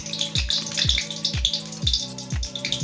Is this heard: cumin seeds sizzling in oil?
yes